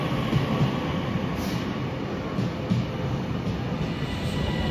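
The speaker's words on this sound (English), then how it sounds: "see if our train has come like 3 minutes early" A train pulls into a London-bound station platform with a steady, loud rumble of rolling carriages and faint wheel clatter that holds throughout, with no voices.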